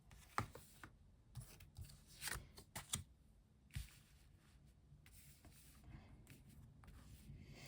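Tarot-style cards being laid out one by one on a table for a reading, a quiet series of soft slaps and shuffling rubs at an irregular pace, close and fairly faint.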